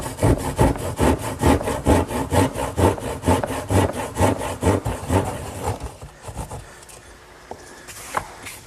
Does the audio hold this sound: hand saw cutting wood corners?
yes